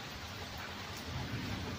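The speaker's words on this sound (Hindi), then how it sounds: "देखिए बारिश आ रहा है" Monsoon rain falls steadily on a rooftop as a dense, even hiss, soft and unbroken throughout with no voices.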